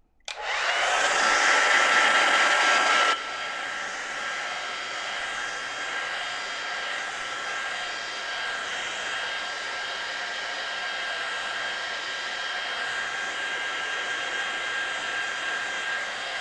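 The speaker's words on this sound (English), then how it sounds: "Good old hair dryer comes out." A hair dryer blows over a wet watercolour landscape painting, a loud close whooshing roar that switches to a steadier, slightly softer hum after a few seconds and keeps running with no talking.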